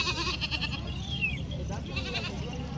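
Goats bleat at a rural goat and sheep market in Vasmat, Hingoli district, with several wavering calls over a busy crowd murmur and someone talking close by.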